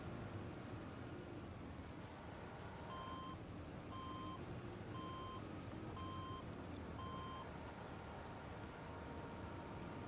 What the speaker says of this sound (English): We need to bring down the truck.